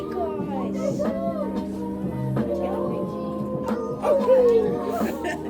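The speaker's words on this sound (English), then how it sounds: "And here's some sled dog puppies." Sled dog puppies yipping and barking in snow, scattered high yips and short barks mixed with people chattering nearby, with a sharper, louder cluster of yaps near the end.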